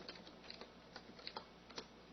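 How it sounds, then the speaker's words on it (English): Light, quick keystrokes on a computer keyboard, entering a short command into a text adventure game, with a few sharper taps standing out among soft clicks. "Let's go ahead and type inventory."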